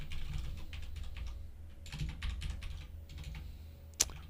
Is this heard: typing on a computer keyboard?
yes